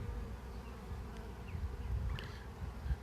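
A honeybee swarm hums steadily near backyard hive boxes, a dense continuous outdoor buzz with individual bees occasionally passing close.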